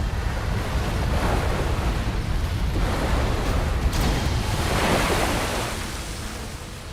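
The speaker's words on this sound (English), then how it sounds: "For a period of nearly 10 minutes, multiple waves batter the inside of the cavern." Waves batter the inside of a sea cavern in southern France, a loud, continuous roaring surge with heavy rumble and wind-like hiss that swells and ebbs over several seconds, with no voices.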